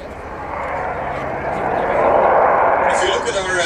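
An F-16 fighter jet makes a slow high angle-of-attack pass at about 110 knots near a runway. Its engine gives a loud, steady roar that swells partway through, heard alone.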